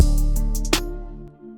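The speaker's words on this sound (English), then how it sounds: "this is just the guitar patch right here" A plain Omnisphere guitar patch with its effects turned off plays a short melodic phrase, a few plucked, tonal notes ringing clearly and alone for under two seconds.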